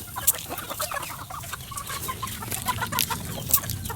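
A flock of chickens clucks in a busy, overlapping commotion at feeding time, close by and continuous, with sharp pecking clicks and occasional louder squawks scattered through.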